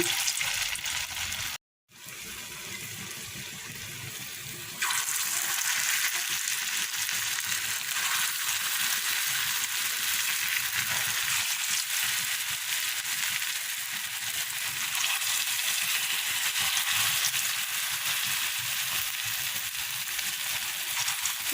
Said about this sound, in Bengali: এবারে এগুলো বড়ার আকারে ছোট ছোট করে দিয়ে ভেজে নেব